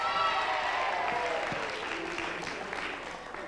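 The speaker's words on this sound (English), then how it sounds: "Give yourselves a big cheer, girls!" A crowd of girls in an audience cheers and claps together, a dense, steady roar of applause that holds loud throughout and eases slightly toward the end.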